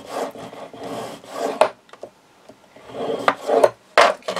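Scoring a crease line into paper for a handmade album, heard as several scraping, rasping strokes close up, with brief pauses between passes.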